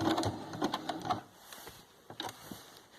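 A sewing machine stitches appliqué onto fabric in short, quiet bursts of rapid whirring, pausing and restarting, with little else around it.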